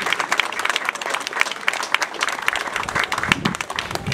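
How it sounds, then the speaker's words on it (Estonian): Crowd applause for the workers at a 2017 collective-farm celebration, many hands clapping briskly and continuously for about four seconds, fairly close, with a faint murmur of voices beneath. "Suur aplaus nendele!"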